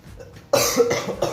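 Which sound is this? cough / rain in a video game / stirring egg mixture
cough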